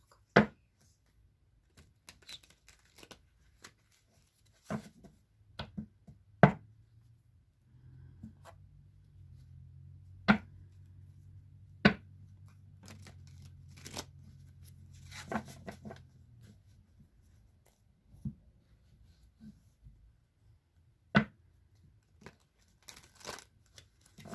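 Tarot cards are shuffled by hand in a quiet room: sparse sharp flicks and soft slaps, plus a stretch of low rustling riffle in the middle, close and fairly faint.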